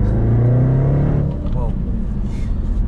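A loud Range Rover SVR exhaust with valves open roars and drones at close range, deep and rumbling, settling into a throaty idle; speech may be faintly present.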